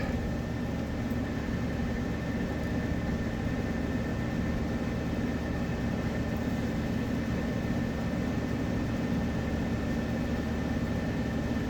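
A 2019 PACCAR MX-13 truck diesel engine runs steadily just after starting, a constant low idling drone with a faint high whine, close and even throughout with no voices.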